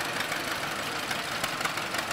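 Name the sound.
tractor engines running in a tractor parade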